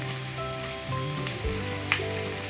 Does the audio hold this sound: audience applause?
no